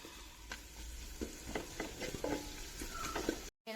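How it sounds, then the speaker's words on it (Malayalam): Sliced onions for beef chilli sautéing in a pan, a soft close sizzle broken by repeated spatula scrapes and clanks, with a brief dropout near the end. "ഇനി ഇത് നല്ലോണം ഒന്ന് വഴറ്റുക."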